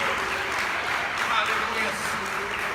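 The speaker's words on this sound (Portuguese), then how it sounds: "dê uma forte salva de palmas" Strong, sustained round of applause from a church congregation, a dense steady wash of clapping held at even loudness throughout, with some voices mixed in.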